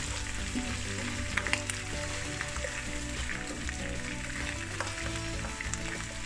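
River shrimp, caught in the Jamaican countryside, fry in a pan with a loud, steady crackling sizzle throughout and a few faint stirring clicks.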